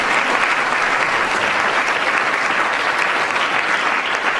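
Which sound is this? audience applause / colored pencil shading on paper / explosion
audience applause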